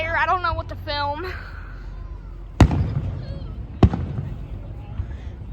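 Fireworks burst at a Fifth of July display, two sharp distant booms echoing after a few seconds of people talking nearby.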